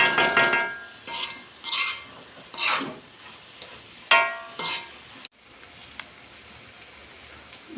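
Onions with a pinch of salt fry in a pan and get stirred for coconut chicken, with a soft steady sizzle broken by several scraping stirs of a spoon against the metal.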